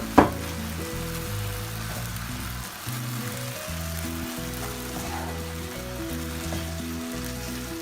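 Food with ginger and ginger powder cooking in a pan, giving a loud, close, continuous sizzle and frying hiss with a spoon stirring now and then, and no talk.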